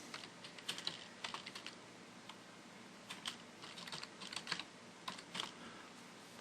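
Keys clatter on a computer keyboard while entering uppercase text in stencil-printer software, quiet bursts of quick taps separated by short pauses, close and alone.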